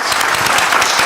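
Steady audience applause at a closing address, dense and continuous clapping filling the whole moment at a constant, fairly loud level.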